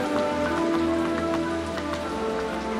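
Steady rain pattering on a surface, close and continuous with distinct drops ticking through a dense wash, no voices.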